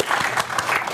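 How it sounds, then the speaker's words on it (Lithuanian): An audience at a comedy show breaks into close, steady clapping, a brief dense burst of applause. "Plojimai."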